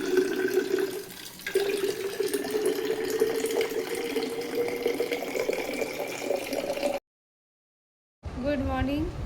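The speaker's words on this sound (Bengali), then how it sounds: "স্কুলের বোতলে জল ভরছি।" Water pours steadily from a tap into a child's school water bottle, a continuous splashing stream that shifts in pitch as the bottle fills, then cuts off; a voice speaks briefly afterward.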